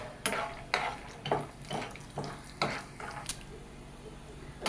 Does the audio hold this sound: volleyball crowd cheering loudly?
no